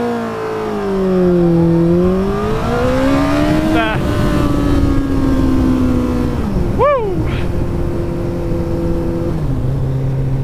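A Kawasaki ZZR1400 (ZX-14R) sport motorcycle accelerates hard on a test run, its engine loud and close, revs climbing steadily through several gear changes with short dips between them.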